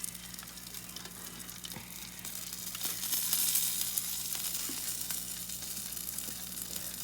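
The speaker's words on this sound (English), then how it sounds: "And this one is sizzling in there. You can hear it." Keto meatloaf with mozzarella and ricotta sizzling on a tray in the oven, a steady crackling, popping fry noise at moderate loudness that continues throughout without talk.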